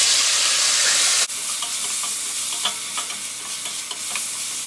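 Chopped tomato drops into a pan of frying onions, a loud steady sizzle that shifts abruptly as the tomato goes in. Faint stirring scrapes follow over continuous close hissing.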